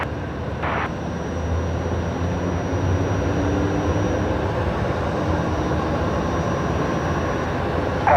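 A Qatar Airways airliner lands on runway 19 left at Brisbane Airport at sunset, and its steady engine roar rumbles at a moderate distance throughout, continuous and unbroken.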